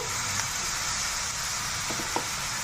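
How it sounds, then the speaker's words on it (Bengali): Bottle gourd sautéing in a pan with salt and spices, a steady soft sizzle with a few faint stirring scrapes, close and continuous with no talking. "লবণ দিয়ে আবার কষিয়ে নেবো, নেড়ে নেবো লাউটা"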